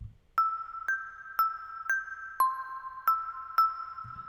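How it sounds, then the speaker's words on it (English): A bright marimba instrument played through a reverb device in Ableton: seven evenly spaced, clear mallet notes with ringing, decaying tails, alone and fairly loud. "Here I have something known as a bright marimba."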